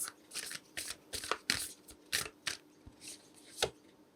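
Oracle cards shuffled by hand in a reading, a run of quick, crisp riffling bursts with short pauses between them, close and fairly quiet, with no talking.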